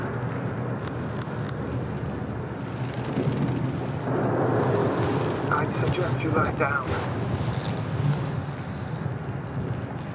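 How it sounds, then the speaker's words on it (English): Raging storm in the game The Invincible, with a deep continuous rumble of wind and distant thunder that swells midway, heavy and enveloping beneath someone speaking calmly. "The storm's raging."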